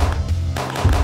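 Gunfire in the shooter game The Last Frontier, a few loud, close shots in quick succession with a heavy low-end punch, packed into about a second.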